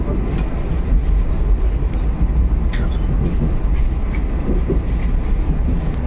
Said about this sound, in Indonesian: kereta api Pangrango sampai di stasiun tujuan terakhir, yaitu stasiun Sukabumi, Jawa Barat